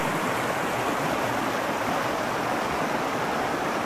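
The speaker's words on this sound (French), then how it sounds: "Là c'est devenu, ben oui, un torrent de montagne parce que il y a une jonction entre plusieurs ruisseaux" Fast mountain torrent formed where several streams meet, rushing down a valley floor as a steady, dense roar of water that fills the whole stretch, close and unbroken, with no voices.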